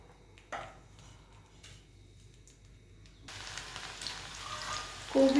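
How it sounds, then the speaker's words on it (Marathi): Cabbage frying in hot oil: a quiet stretch, then from about three seconds a steady broadband sizzle that swells and holds to the end, with a brief clink near the close. "तेल गरम झालं यात मी पहिले कोबी घेते आणि कोबीला तळून घेऊया"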